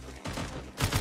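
Rapid gunfire bursts from a CS:GO Mobile match, a dense volley in the first fraction of a second, then sustained shots swelling louder near the end, with no talking.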